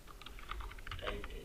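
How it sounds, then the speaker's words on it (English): Fingers type text on a computer keyboard in a PDF editor, a quick soft patter of keystrokes heard faint and close for a moment. "Also here you can type your text."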